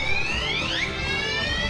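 A shrill electronic fire alarm horn, triggered by a fire suppression system's control panel, sounds continuously, its harsh tone briefly sweeping upward, steady and fairly loud.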